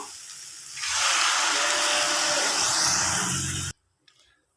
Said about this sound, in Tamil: இப்போது வெண்டைக்காய் கூடவே புளி தண்ணி சேர்த்துப்போம்.